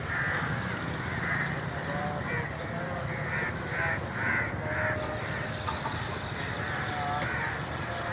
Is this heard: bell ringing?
no